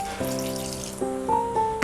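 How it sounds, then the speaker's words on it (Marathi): Chili-soaked water is poured into a mixer grinder jar while making schezwan chutney, a short splashing trickle heard close up with a steady musical tone underneath. "मिक्सरच्या भांड्यात हे मिरचीचं पाणी आहे ते थोडंसं यात टाकते"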